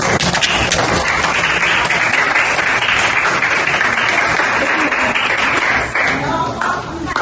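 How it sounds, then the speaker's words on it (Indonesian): Sustained applause fills a school science classroom as students clap for group 3, a dense, loud, steady patter of many hands lasting several seconds before easing slightly at the end. "Beri aplaus untuk kelompok 3."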